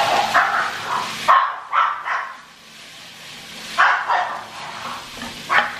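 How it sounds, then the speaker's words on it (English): Several dogs bark and yip in short, sharp bursts while squabbling over bones indoors, loud and close, with brief whimpering between the barks and quieter gaps. "The dogs are fighting over the bones."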